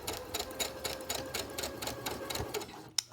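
Sewing machine stitching elastic onto a fabric face mask, a steady rapid needle clatter running close and continuous, then stopping with a sharp click near the end.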